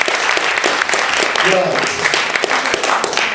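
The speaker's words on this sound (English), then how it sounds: "Round of applause, please." Brief burst of close, lively audience clapping at a human genetics lecture, greeting a volunteer, with a voice speaking briefly over it.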